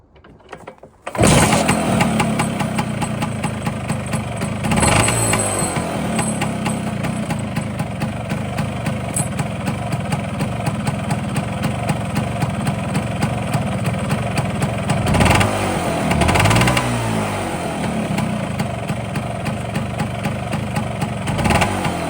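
A Vespa scooter engine is kick-started with a burst and settles into a steady, buzzing idle with a few brief revs, close by and loud throughout.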